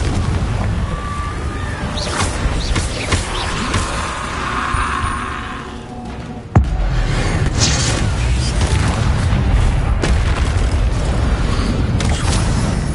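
Confringo blasting spells detonate in the game Hogwarts Legacy, loud rumbling booms over a dense roar of combat effects, with a sharp crack midway followed by sustained explosive rumble.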